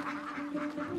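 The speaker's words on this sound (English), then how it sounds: "There are close to 100 ducks, 40 chickens, 2 turkeys, and 7 geese" Ducks quack in a quick, rhythmic series on a farm crowded with ducks, chickens, turkeys and geese, the calls close and moderately loud.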